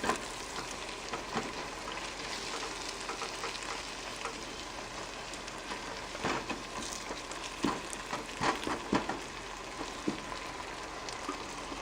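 Spices crackling and sizzling in oil on high heat on an electric stove for Nepali achar, a steady broadband fry with scattered sharp pops and spits, close and continuous with no talking.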